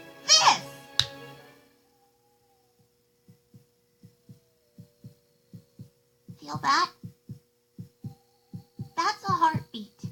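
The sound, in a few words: heartbeat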